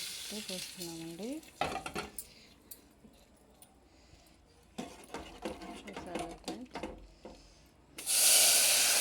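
Hot oil tempering is poured into dal charu, setting off a loud sudden sizzle near the end, after a stretch of stirring and clinking in the pot with someone talking over it.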